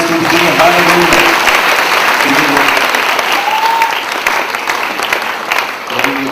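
Church congregation at a healing service breaking into loud, sustained applause, dense clapping from many hands filling the room, with voices and shouts mixed in underneath.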